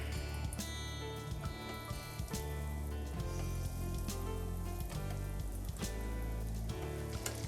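Walleye fillets fry in a skillet with a steady, close, dense sizzle and crackle that continues without pause, and no voices are heard.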